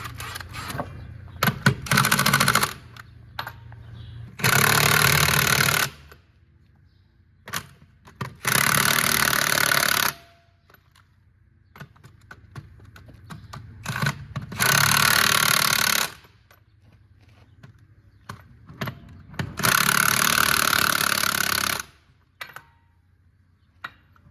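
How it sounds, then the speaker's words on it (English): Bursts of loud power-tool rattling, like an impact wrench driving bolts down at a demolition site, come in several repeated runs of a second or two, separated by quieter gaps with scattered clanks. "now we're gonna torque these down"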